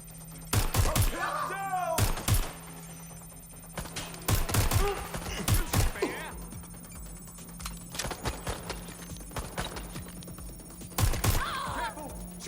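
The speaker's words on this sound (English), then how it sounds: "Careful! Shot fired!" Bursts of gunfire in Watch Dogs: Legion, several loud volleys of rapid shots spaced across the scene with quieter gaps between, over a steady low game hum.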